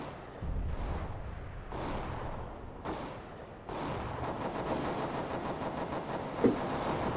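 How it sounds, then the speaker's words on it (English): Repeated bursts of gunfire and blasts during a CS GO match, several sharp broadband hits at steady intervals followed by a sustained rattling stretch, moderately loud over background game noise, with no voices. "Throwing a grenade."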